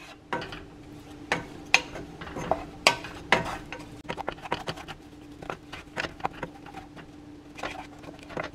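A spoon scraping and tapping through thick chamoy with melting tamarind pulp candies in a pan, in irregular close clinks and soft pattering strokes with a faint steady hum beneath.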